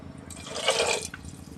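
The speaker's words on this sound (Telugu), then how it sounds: "కొంచెం వాటర్ అయితే యాడ్ చేసుకుందాం. 1 గ్లాస్ వాటర్ అయితే వేసుకున్నాం." A glass of water poured into a pan of brinjal and potato curry, a short splashing gush about half a second long, close and fairly soft, then brief trickling, with no voices.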